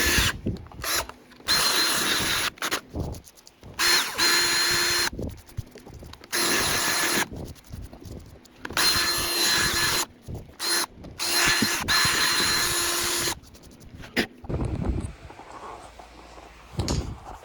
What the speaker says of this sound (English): I'm gonna drill this hole out until I feel like we got good metal again